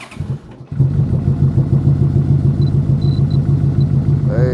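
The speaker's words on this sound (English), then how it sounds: "cold start on the Royal Star Venture" A Yamaha Royal Star Venture motorcycle engine cold starts after a brief crank, then settles into a loud, steady, throbbing idle with a rhythmic low pulse, close by.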